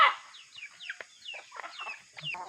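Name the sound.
chickens clucking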